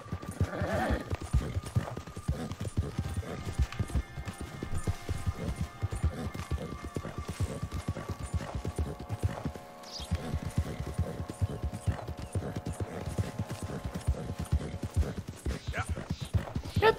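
Horse hooves galloping in Red Dead Redemption 2, a fast, steady run of close clip-clop beats that continues almost unbroken, with a brief pause near the middle and speech at times.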